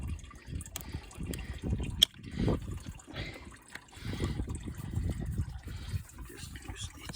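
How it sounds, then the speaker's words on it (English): Engine coolant dribbles and trickles out of a Rover engine as it drains during a head gasket replacement, a close, steady liquid patter with low gurgles and a faint tool click, and no talk. "now, while the coolant is just dribbling away"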